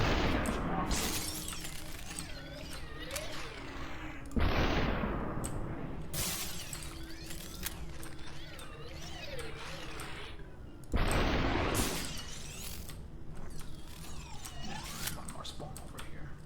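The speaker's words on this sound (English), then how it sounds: "I'm just waiting for the sound of glass shattering, which is usually enough." Glass-like shattering bursts as enemies die in the video game SuperHot, two sharp crashes several seconds apart over a steady mechanical game soundtrack with creaks and clicks.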